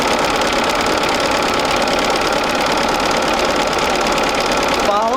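A sewing machine stitching through a quilt seam allowance, a fast continuous close mechanical whirring and knocking at a steady pace.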